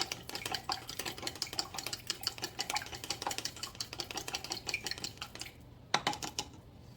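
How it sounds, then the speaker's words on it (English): A spoon scraping and clinking against a container while Asian chili sauce mixture is stirred, with quick, irregular taps and scrapes in a fairly quiet close-up, a brief pause, then a few more clinks. "I'm going to give all of that a stir"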